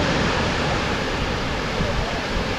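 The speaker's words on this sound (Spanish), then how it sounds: "Y es una cascada muy linda." Gibbon Falls in Yellowstone roars as a continuous broadband rush of falling water, loud and steady with no pauses and no talk over it.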